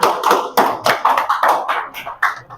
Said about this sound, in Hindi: लीजिए जोरदार तालियां रतनलाल जी के लिए।